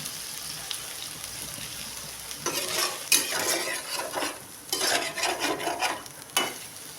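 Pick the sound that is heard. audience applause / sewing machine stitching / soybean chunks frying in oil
soybean chunks frying in oil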